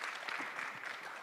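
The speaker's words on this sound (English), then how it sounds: "Please give him a round of applause." Audience applause for a guest at a book and art fair, a steady wash of many hands clapping throughout, fairly close and even, with no speech over it.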